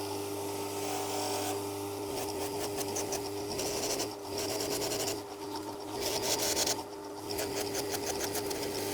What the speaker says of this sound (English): I think these need a bit of smoothing down before polishing.